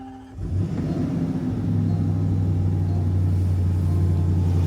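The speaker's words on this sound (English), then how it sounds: "It's not too obnoxious, a relatively subdued rumble on cold start." Supercharged V8 in a Land Rover Defender starting from cold: a brief crank, then a steady, deep, subdued idle rumble that holds even and moderately loud throughout.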